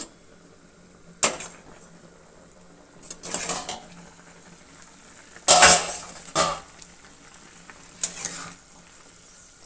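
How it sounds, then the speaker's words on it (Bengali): A metal lid taken off a pot of simmering vegetables, with several sharp clanks and scrapes of cookware standing out over a quiet kitchen background. "এখন আমি ঢাকনাটা নামাবো"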